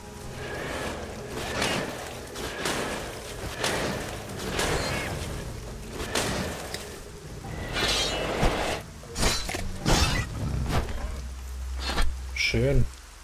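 Rain falling in the game Arcania, a continuous hissing patter of drops with occasional sharper clinks, heard under a voice talking.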